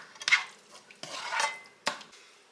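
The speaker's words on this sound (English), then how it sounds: "Let's get that chicken all mixed up in the sauce." Chicken and onions get stirred into a cream cheese sauce in a skillet, three separate scraping, clattering strokes of a utensil against the pan, close and fairly quiet with pauses between them.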